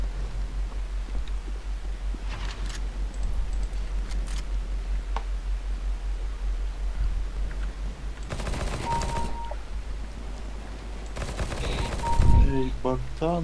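Rapid-fire bursts in Counter-Strike: Global Offensive, likely from a P90, come as two sustained volleys of dense, fast shots at close range, amid scattered game clicks and ticks, with faint background talk.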